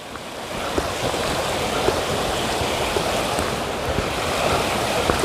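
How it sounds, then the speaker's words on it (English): A river flows beneath a fence spanning the water along the Appalachian Trail, giving a steady, broad rush of moving water that stays close and continuous, with no voices. "So the river flows under it."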